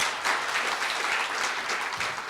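Applause from a forum audience for visiting university presidents, a steady wash of many hands clapping at moderate distance, continuous throughout with no talk.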